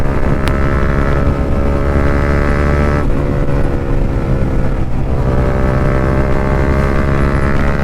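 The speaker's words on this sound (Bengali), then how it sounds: "এখানে তো রেস লেগে গেছে N160 ভার্সেস MT-15" Several motorcycles, a Bajaj Pulsar N160 and a Yamaha MT-15 among them, race at high speed on a group ride, their engines droning loud and steady with shifting pitch and a brief dip near the middle, with no talk.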